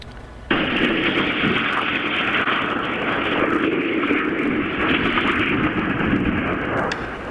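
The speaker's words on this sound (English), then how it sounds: "The surveillance video shows the landing gear failing on Vince Neil's plane as it lands before crashing into a parked jet." A private plane's landing gear fails on landing at Scottsdale Airport and it crashes into a parked jet: a sudden loud roaring onset followed by a sustained, dense rumbling crash noise with sharp bursts, heard alone.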